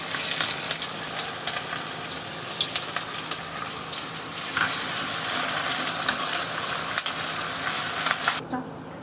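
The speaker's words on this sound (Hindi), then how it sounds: "जब तक प्याज भुन रहा है" Chopped onion frying in a hot oil tempering with cumin and fenugreek while being stirred, a steady, dense sizzle with occasional scraping of the spoon, close and continuous until it cuts off near the end.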